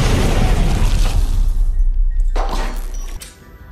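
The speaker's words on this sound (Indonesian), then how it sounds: "dengan cepat Everly langsung melemparkan granat ke arah mereka" A grenade blast in a film booms loud and close, rumbling with heavy low end that rolls on for a few seconds before a lighter crash of debris and fading.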